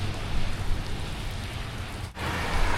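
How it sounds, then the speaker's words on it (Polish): Heavy rain falling in Durrës, Albania, a dense steady hiss and patter that fills the whole stretch, loud and close, with a brief dip near the end and no talk. "W strugach deszczu idziemy."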